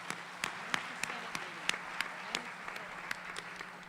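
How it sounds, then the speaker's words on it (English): Sparse, faint clapping from a small audience at a faculty convocation, a thin scattering of individual claps with a few sharper hits, heard at a distance in a quiet room. "So I'd like to give her another warm round of applause."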